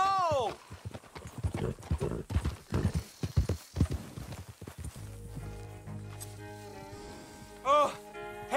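Rapid hoofbeats of a horse galloping away in the video game Red Dead Redemption 2 clatter in a fast rhythm, then fade, followed by a horse whinnying near the end over background music.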